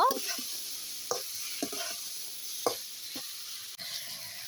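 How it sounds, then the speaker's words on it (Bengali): Vegetables and tomato sizzle gently in a frying pan as a spatula stirs them, with five or six sharp scrapes and taps standing out over the quiet hiss, all close up and without voices. "এখন টমেটো দিয়ে একটুখানি হালকাভাবে নাড়া দিব।"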